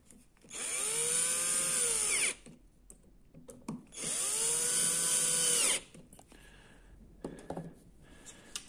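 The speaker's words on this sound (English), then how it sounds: "let's just tighten those two screws up" A power drill drives two screws into a wooden flip-stop fence for a sliding compound mitre saw, giving two loud whirring runs of about two seconds each that rise in pitch, then quieter handling clicks and knocks.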